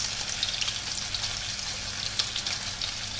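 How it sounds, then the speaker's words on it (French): Chicken patties frying in a pan over medium heat, giving a steady, even sizzle with a soft crackle throughout and no voices. "je vais faire cuire donc sur feu plutôt moyen pendant 3 minutes à peu près sur chaque face"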